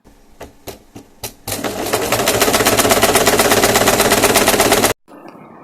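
A few separate clicks and taps, then a sewing machine stitching a skirt pocket in one steady, rapid, close run of about three and a half seconds that stops abruptly.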